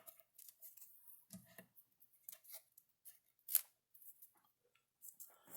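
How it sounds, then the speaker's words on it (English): Scissors snip the edge off material to make a flat, square edge for herringbone work, a few quiet close clicks and cuts with a sharper snap midway, in an otherwise hushed room. "So you can just snip the edge off."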